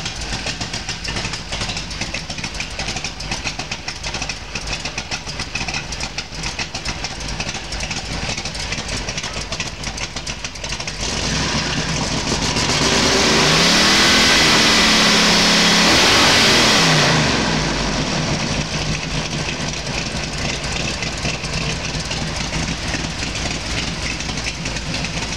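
A Ford 482 cubic inch stroker side-oiler engine with mufflers idles with a steady, loud rumble. Partway through it swells noticeably louder and rougher for a few seconds, then settles back to the same even idle. Nobody talks.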